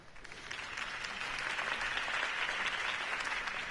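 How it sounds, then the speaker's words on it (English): In the Telltale Batman video game, a crowd claps steadily with dense, even applause that swells slightly after the first second and holds at a moderate, distant level throughout, with no voices on top. "could have heard that applause"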